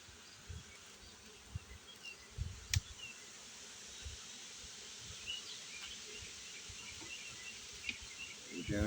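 Honeybees at an open hive checked for returned queens hum in a steady, soft buzz close by, with occasional louder buzzes and light handling clicks.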